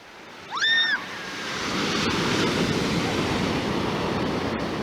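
Surf washing onto a pretty beach at Louisbourg, a steady broadband roar of breaking waves with wind; a brief bird call rings out near the start before the wash swells and continues alone.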